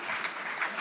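Brief, fairly soft round of clapping from the audience at a tech conference talk, steady and scattered with no speech over it.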